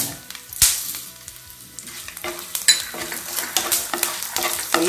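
Garlic, ginger and coriander fry in a pan for red chutney, a steady sizzle broken by repeated stirring scrapes and a sharp clatter near the start, close and fairly loud.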